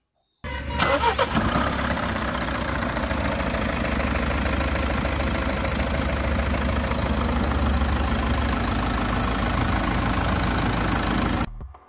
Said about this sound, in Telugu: ఇంజన్ సౌండ్ ఒకసారి వినండి